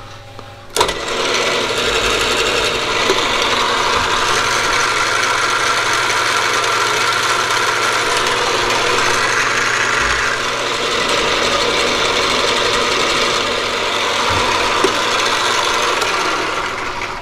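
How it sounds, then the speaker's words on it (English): A drill bores pilot holes into a 4140 steel axle adaptor in a machine shop, a continuous loud grinding rasp with a steady motor hum underneath, beginning with a sharp knock and running unbroken for many seconds. "Alright, so we got all the pilot holes drilled in."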